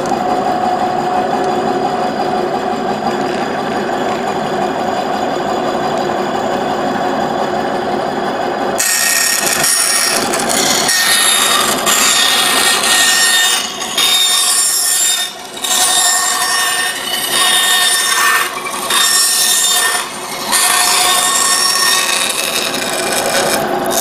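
A power saw cutting wooden wheel rims for a doctor's buggy, first a steady motor drone, then a loud, harsh sustained cutting sound that dips in short gaps as the wood is fed, close throughout.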